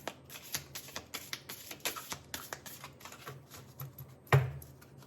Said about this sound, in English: So let me shuffle the cards quickly.